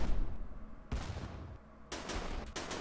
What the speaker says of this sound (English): And now we are launching our missiles at them.